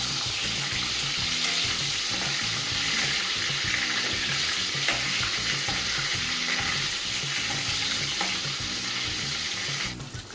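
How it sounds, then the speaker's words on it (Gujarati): Paneer pieces fry in hot oil in a kadai, giving a dense, even crackling sizzle that holds steady throughout with faint stirring. "તેલ ગરમ થાય એટલે તેમાં પનીર નાખીને પનીરને તળી લઈએ."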